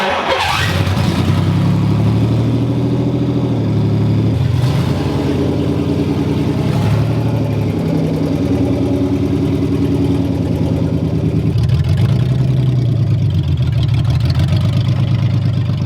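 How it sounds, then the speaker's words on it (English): A Nissan Z with a V6 engine, freshly converted to a manual gearbox, starts and revs loudly up close, its deep, throaty drone rising and falling through repeated throttle blips and sustained revs with no talking. "It's a V6, but it sounds like a V8."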